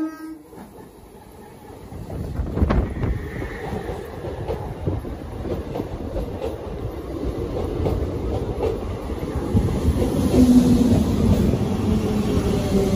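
A MEMU passenger train running from Bhadrak to Puri near Kendrapada station rumbles loudly and steadily, with wheels clattering over the rails and the roar building as it gathers speed.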